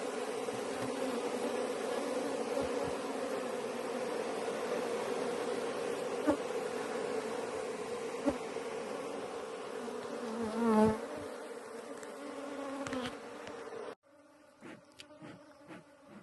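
Honey bees buzz in a continuous, fairly faint droning hum around a beehive, with a few closer passes rising in pitch before the sound drops away abruptly near the end.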